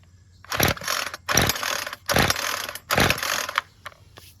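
A Homelite string trimmer found at the curb is pull-started four times in a row, each rasping rope pull cranking the engine over with a ratcheting whir, close and loud, with no talk.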